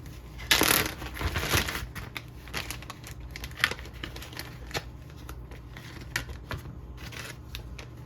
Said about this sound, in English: I grabbed a couple of Ziplocs here, and I labeled this one for the broth.